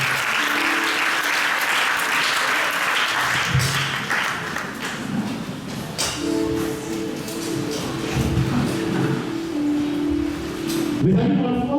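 A church congregation breaks into sustained applause to acclaim the Lord, dense clapping from many hands filling the room, with voices and a held musical tone joining under it.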